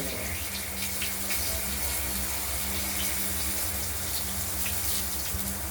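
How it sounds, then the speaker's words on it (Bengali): Bay leaf and nigella seeds tempering in hot oil for a fish and potato curry, a dense continuous sizzling hiss, loud and steady throughout with no talk. "এবার দিয়ে দিলাম ফোড়ন। তেজপাতাটি আগে দিয়েছি, কালো জিরে দেব,"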